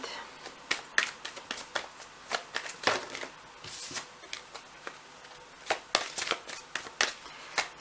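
Tarot cards are shuffled and handled in a steady run of crisp riffling, snapping and sliding taps, close and fairly quiet, with no one speaking.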